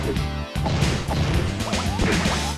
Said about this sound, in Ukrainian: Або якщо завдати удару в живіт чи серію лоу-кік ударів